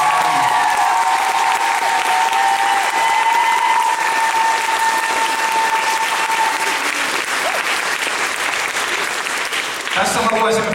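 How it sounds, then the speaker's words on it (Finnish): Loud, sustained audience applause at an anime convention opening in Kuopio, greeting the guest of honour Kaoru Mori, a dense wash of clapping that fills the hall and continues steadily before tapering near the end. "Annetaan vielä suuret aplodit hänelle"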